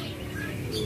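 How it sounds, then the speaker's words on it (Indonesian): Canaries chirping at a busy bird kiosk stocked with cages, a steady mix of small bird calls and tweets over a dense background murmur, fairly close and continuous. "Kenari loper cerah."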